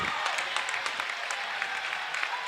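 A gym crowd at a girls volleyball sectional claps continuously, a dense, even burst of applause with scattered louder claps and cheers.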